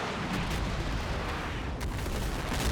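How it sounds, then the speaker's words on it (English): Artillery fire in the WWII wargame Combat Mission: Battle for Normandy, a continuous rumbling barrage of distant booms blending into a dense roar, fairly faint and steady with no talk over it. "Yeah, could be our own artillery"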